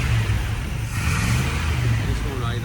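Scout engine running rough after a carburetor install, a loud low rumble close by that wavers and surges unevenly, with voices talking over it.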